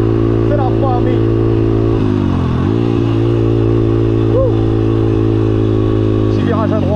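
A Honda XR100 motorcycle rides through Downtown Los Angeles, its engine buzzing steadily up close with a couple of shifts and revs while someone talks over it.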